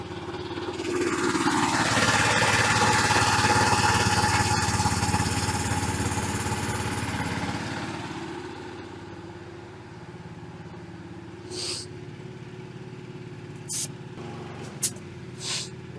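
An air compressor runs loudly on an Alaskan homestead in spring, a steady mechanical drone that later eases to a quieter hum, broken by a few short clicks and knocks toward the end.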